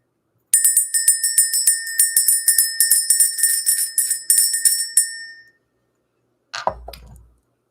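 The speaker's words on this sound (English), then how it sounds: "We're going to ring the bell." A small hand bell rung repeatedly to clear energy, a quick run of bright, close metallic rings lasting several seconds, then a short burst of rustling handling noise.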